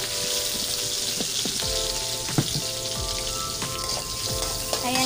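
Garlic sizzles and crackles in melted butter in a pan, a steady close frying hiss with scattered pops, no one speaking over it.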